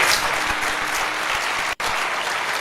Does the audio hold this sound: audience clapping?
yes